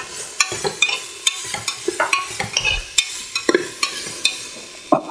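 Potato and carrot pieces fry in a pan for a millet kichidi, with repeated scraping stirs and soft sizzling in an irregular rhythm, close and clear with no talk.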